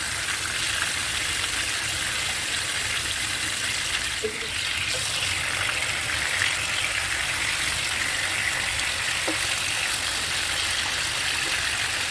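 Pieces of katla fish fry lightly in hot oil in a pan, giving a steady, even crackling sizzle that holds for the whole stretch, with a couple of faint clinks and no talking.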